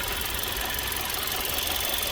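A small four-cylinder turbocharged car engine runs steadily with a constant, loud, close broadband hum and a faint knocking rattle, with no voices.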